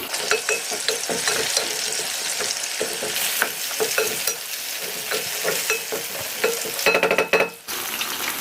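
Minced meat and tomato paste stirred in a frying pan for Egyptian moussaka, a steady close sizzle with repeated scraping clicks of a spoon, ending in a brief burst of sharper metallic scrapes.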